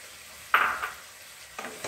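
Chilli chicken with pepper powder fries in a pan. Two bursts of sharp sizzling and stirring scrapes stand out clearly against quieter background hiss.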